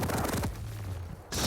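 Rocket launcher fire in a Quake Pro League match, with rapid bursts of blasts and impacts crowding the start, a low hum through the middle, then a bright hissing burst at the end.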